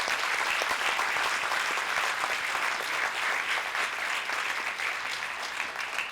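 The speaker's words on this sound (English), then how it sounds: "So I'm going to ask you all to just give them a round of applause." An audience applauds performers on stage, a steady, full round of clapping from a crowd that holds an even level throughout.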